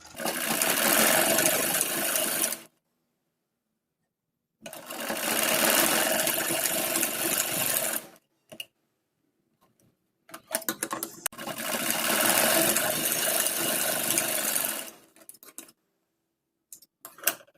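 Sewing machine stitching a red strip onto a kurti sleeve, running in three long bursts of a few seconds each with short stops and brief ticks between them, steady and close.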